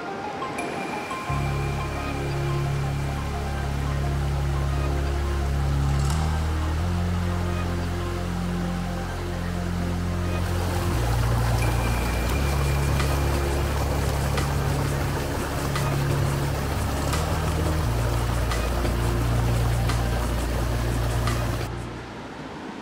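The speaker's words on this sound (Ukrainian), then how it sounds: "Тут цілий водоспад." A waterfall in the Gorgany range of the Carpathian mountains gives a loud, steady rush of water that never lets up, with a low rumbling undertone and no voices.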